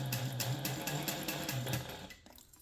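A sewing machine stitches a pouch from sublimated fabric, its needle running in a fast, steady close-up chatter for about two seconds before slowing to a stop.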